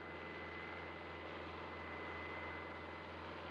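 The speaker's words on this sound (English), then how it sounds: "Arriving at the Castoro's helicopter platform, Kusто was astonished by the scale of the Saipem operation." A helicopter arrives at the helideck of the Castoro, a Saipem offshore construction platform in 1978, its engine a steady, unbroken drone with a faint whine riding on top.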